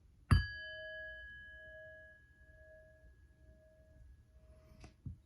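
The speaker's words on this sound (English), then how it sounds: "I'm going to ring the bell one time so that we can begin this" A single bell struck once at the start of a tarot reading, a sharp close strike followed by a clear ringing tone that slowly fades over several seconds, with no talking.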